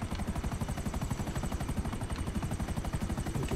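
Helicopters in GTA 5 Online thrum with a fast, even rotor chop that pulses steadily and close, with no voices over it.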